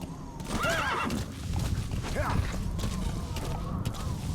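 A horse in the Metal Gear Solid V video game whinnies loudly twice, followed by clip-clopping hooves and creaky tack under a steady game ambience.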